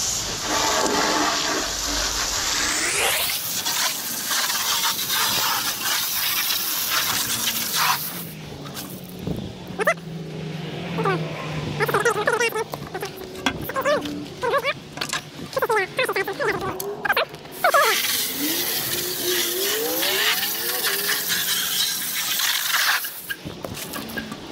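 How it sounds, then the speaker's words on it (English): A garden hose sprays water loudly and steadily to wash mud out of plastic parts from a Cabking 8-inch cabbing machine, a close rushing hiss that varies as the stream moves, with brief spoken voices in between. "Now I turned on the hose because after I scrape them out,"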